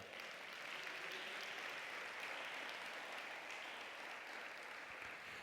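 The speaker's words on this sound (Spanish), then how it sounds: "Dar un aplauso a Él." A church congregation applauds during a sermon, a faint but continuous wash of clapping that holds at an even level throughout, with no speech over it.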